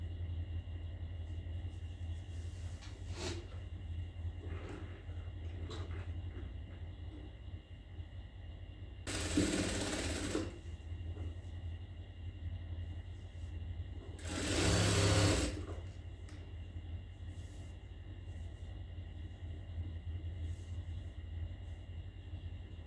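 A sewing machine stitches the strap of a travel bag in a tailoring workshop, with two short loud bursts of stitching over a steady low motor hum and no talking.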